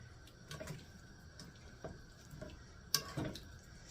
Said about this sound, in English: we're going to get that taco seasoning stirred up in there.